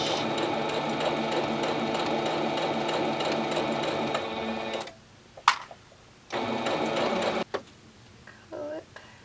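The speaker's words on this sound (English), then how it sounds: "I'm just going to go ahead and run a basting stitch in here" A sewing machine runs a quarter-inch basting stitch with a back stitch through vinyl on a satchel handbag side panel, a steady loud whir for several seconds, then stops briefly, clicks and restarts in shorter bursts.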